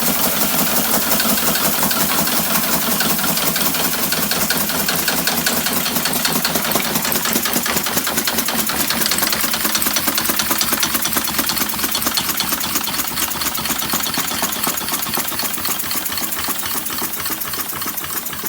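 A small model steam engine runs on compressed air from a bicycle pump, giving a rapid, even chuffing beat that continues close and loud for the whole stretch and softens slightly near the end, with no voices.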